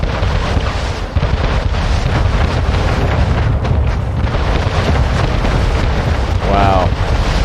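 Warship cannons from a naval war fleet in Anno 1800 fire continuously, a dense, steady roar of booms and rumbling blasts with no clear gaps, and a brief tonal sound near the end.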